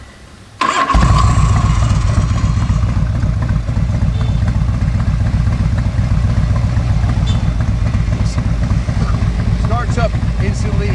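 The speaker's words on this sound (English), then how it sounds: "Starts up instantly, idles beautifully." A 1986 Harley-Davidson FLHT motorcycle engine fires up abruptly and settles into a steady, loud idle with a rapid rhythmic putter, continuing without pause.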